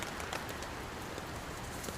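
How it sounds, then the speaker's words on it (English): Rain falls at a bushcraft campsite in rainy weather, making a soft, steady, continuous patter with no voices. "even though it is still raining"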